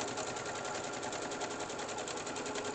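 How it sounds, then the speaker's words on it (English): Sewing machine stitching a quarter-inch seam around a fabric teabag holder, a steady fast rhythmic needle chatter running continuously and close, with no talking. "back stitching when I get to the end."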